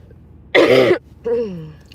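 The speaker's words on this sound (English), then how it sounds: "It's just like the cough that will never go away." A single harsh throat clearing or cough burst, close and loud, followed by a short voiced grunt.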